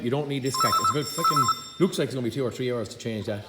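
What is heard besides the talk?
telephone ringing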